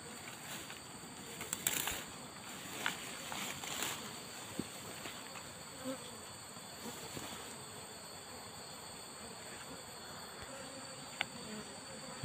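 A steady, faint buzzing hum of many Asian honeybees at a nest entrance in a rock hole continues throughout, with occasional louder buzzes passing close by.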